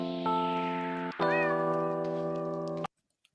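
A cat's meow sampled in a song, two drawn-out tonal meows in quick succession, loud and clear, then cutting off abruptly to near silence.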